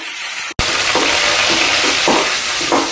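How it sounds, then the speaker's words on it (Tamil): Curry leaves drop into hot oil with garlic in a pan for tomato rice, producing a loud, continuous hiss. A brief cut is followed by a steady sizzle with small flare-ups. "இப்போ வந்து ஒரு கொத்து கருவேப்பிலை போடுறேன்"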